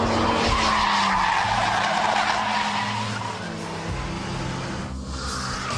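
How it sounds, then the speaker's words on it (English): A front-wheel-drive car skids through a 90-degree handbrake turn, with loud tire squeal and scrubbing over engine noise lasting several seconds before the sound eases off. "So that's the handbrake turn, the 90-degree handbrake turn"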